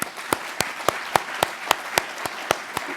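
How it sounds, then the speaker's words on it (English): Sparse, faint applause from a small group at an academic program event honoring faculty, with individual claps standing out in a steady rhythm of about three or four per second, heard alone. "can we give them a round of applause?"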